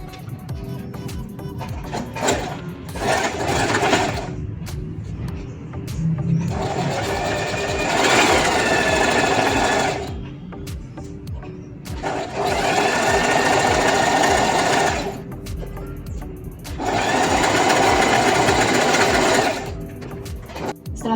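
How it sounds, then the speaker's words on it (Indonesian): An electric sewing machine stitches a fabric seam, a loud close rapid whirring chatter running in four long bursts separated by short pauses. "Kemudian kita jahit."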